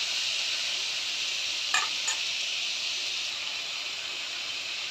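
Onions frying in hot oil for bitter gourd (karela) bhaji, a continuous bright sizzling hiss held steady throughout, with a couple of brief stirring knocks near the middle, close and fairly loud.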